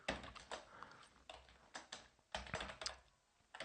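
Someone types C++ code on a computer keyboard, quick bursts of close key clicks separated by short pauses, with no talk.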